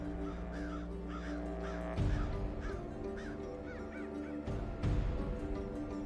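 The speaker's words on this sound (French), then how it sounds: "Des corneilles." Crows cawing in the mountains, several harsh calls repeating at a moderate distance over a steady background hum, with a couple of louder rustling bumps between them.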